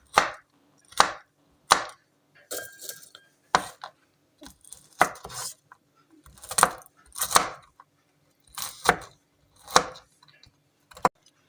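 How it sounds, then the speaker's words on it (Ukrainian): Toasted walnuts are chopped with a knife on a board into small pieces, producing a steady run of sharp, close knocks at an irregular, roughly one-per-second pace with no talking. "ми їх попередньо обсмажили на сковороді і наріжемо, подрібнемо на такі невеличкі шматочки"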